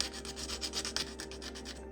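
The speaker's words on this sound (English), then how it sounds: "sanding it down" Sandpaper rubs back and forth over the wood of a model wagon in quick, even strokes, close and fairly quiet, with no talking.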